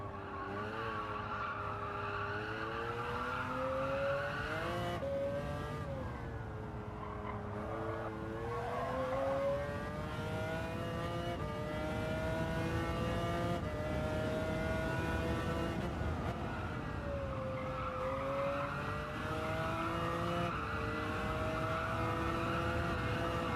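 Race cars at Spa in Gran Turismo 7, including a CLK, during an endurance race: engines rise and fall through gear changes with tire squeal and skidding, continuous and loud throughout.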